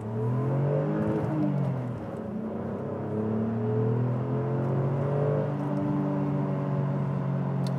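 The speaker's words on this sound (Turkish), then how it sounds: "Patlama sesi de geliyor egzozdan." An Alfa Romeo Brera 3.2 V6 Q4 engine revs up under acceleration and holds a droning, rising tone close by, with faint crackles and pops from the exhaust under the steady roar.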